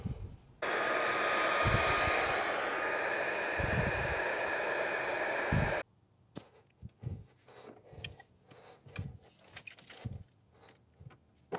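A heat gun shrinks heat shrink tubing over 12V wiring in a 4WD setup, blowing as a loud, steady roar for about five seconds before cutting off, followed by quiet handling clicks and knocks.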